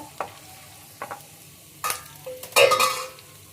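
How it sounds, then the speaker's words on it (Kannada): Chana dal frying on low heat in a pan for a dry raw-banana palya, a soft sizzle with a few scraping stirs and a louder burst of frying near the end, close and without speech. "ಸ್ವಲ್ಪ ಸಿಮ್ಮಲ್ಲಿ ಇಟ್ಕೊಂಡು ಫ್ರೈ ಮಾಡಿ"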